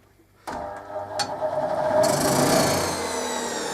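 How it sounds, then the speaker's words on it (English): A wooden cup piece on a homemade wood lathe built from an old drill is scraped by a turning tool, a rough rasping whir that starts suddenly and grows into a steady close grind with faint motor hum. "do a little bit more scraping"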